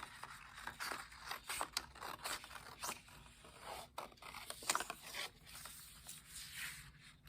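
Scissors snip and scrape at paper as a corn husk shape is cut out, with faint, close rasping cuts in an irregular rhythm and no talking.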